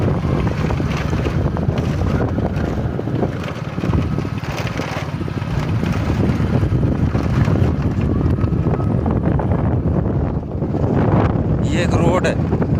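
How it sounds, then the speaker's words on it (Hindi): A motorcycle ridden across open land gives a steady droning rumble buried under heavy wind buffeting on the microphone, continuous and loud throughout, with a voice faintly audible in places. "अब हम बाइक से आपको पूरी ज़मीन घुमाने की कोशिश करते हैं।"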